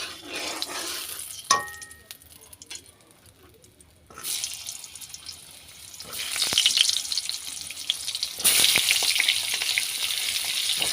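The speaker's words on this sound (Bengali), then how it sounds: "কড়াইতে তেল দিয়ে দিয়েছি দিয়ে এবার পটলটা আমি একটু ভেজে নেবো" Pointed gourd fries in oil in a wok with a loud, rushing sizzle that swells and fades in bursts, mixed with watery splashing. A quieter lull falls near the middle.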